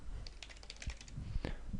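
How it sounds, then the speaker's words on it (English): Keys on a computer keyboard clatter in a quick irregular run of taps and a couple of heavier clicks, close and fairly soft, with no voice over them. "type in Barney, double click"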